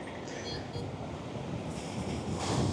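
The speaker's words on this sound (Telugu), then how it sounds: "ఇదే దేవరా సముద్రం అనమాట," Sea surf at Uppada beach near Kakinada rushes in a steady broadband wash, heavily buffeted by wind noise, swelling slightly louder toward the end with no clear talk.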